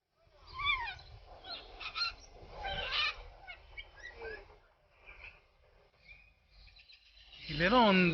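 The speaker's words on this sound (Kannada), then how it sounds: "ಇಲ್ಲೇನೋ ಒಂದು ಪ್ಯಾರೆಟು ಮಾತಾಡ್ತಾ ಇದೆ." Birds at a zoo, including a parrot, give a run of loud honking and squawking calls with rising and falling chirps, fairly close, followed by a sharp burst of calling near the end.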